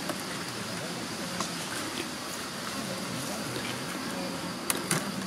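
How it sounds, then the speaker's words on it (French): Honeybees hum in a dense, steady drone over an open hive frame heavy with nectar at a Drôme des Collines apiary, the buzzing continuous and close with brief brighter flickers from individual bees; a faint voice sits under it. "là c'est que des abeilles"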